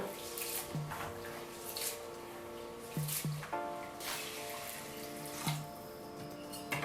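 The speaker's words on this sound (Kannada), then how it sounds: "ನಾವಿಲ್ಲಿ ನೀರು ಆ್ಯಡ್ ಇದ್ದೀವಿ ಹಾಗೆ ನೀವು ಇದನ್ನು ಚೆನ್ನಾಗಿ ತೊಳ್ಕೊಬೇಕಾಗತ್ತೆ" Soft sloshing and swishing of rice being washed by hand in water, irregular splashes close by, with faint background music.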